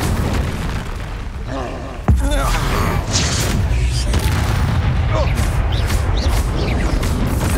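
A deep booming blast from the Exploso spell in Hogwarts Legacy erupts loud and close, followed by sustained rumbling and crackling of battle effects, with voices shouting through the game sounds.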